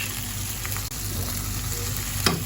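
Fried head meat with chili is stirred in a hot pan at a street food stall in Samandağ, giving a constant loud sizzle and hiss with one brief scrape near the end and no talking.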